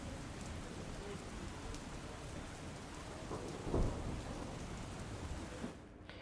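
Heavy monsoon rain pours down steadily in Ahmedabad, a dense, even hiss of water with one brief low rumble partway through.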